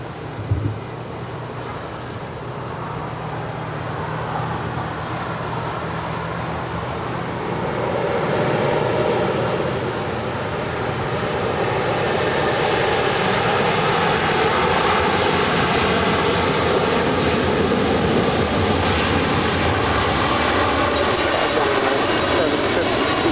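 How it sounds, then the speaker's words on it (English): A jet airliner lands on runway 25 Left at Los Angeles International Airport, its engine roar building into a broad, sustained rumble that grows louder and holds steady for over twenty seconds. "Beautiful landing there on 25 left."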